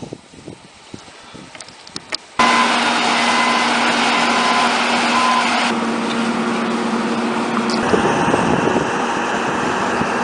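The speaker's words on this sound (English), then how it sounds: "their excavator has just now shown up" An excavator engine at a construction site by a bridge abutment in Ontario starts up and drones steadily and loudly, shifting pitch a couple of times as it runs, with no talk.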